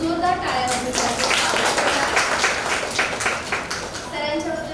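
An audience at an event at Prabodhan Kurla School in Mumbai breaks into a burst of clapping that fills the middle of the moment, with a speaking voice before and after it.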